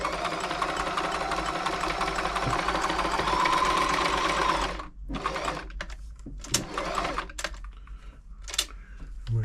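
Frister & Rossmann 904 sewing machine stitching a zigzag: a loud, fast whirring mechanical chatter for several seconds, then it stops and gives way to short scattered knocks and handling sounds.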